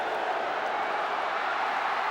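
Rugby league stadium crowd at the 1994 Bulldogs v Raiders major semi-final, a dense, steady roar of many voices counting down together, loud and continuous throughout.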